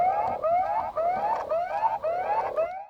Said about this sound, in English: if you do pick it up, it will send an alarm